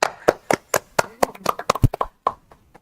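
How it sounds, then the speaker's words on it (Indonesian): A few people clapping in brisk, distinct claps at a live-streamed World Cup fan event in Ambon, close and crisp, slowing and thinning out into sparse taps toward the end. "Tepuk tangan dulu."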